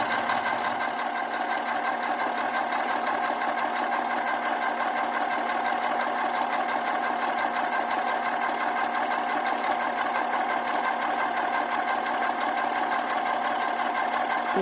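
A sewing machine runs steadily and close, stitching through papers and lace with a fast, even mechanical rattle that holds without pause for the whole stretch.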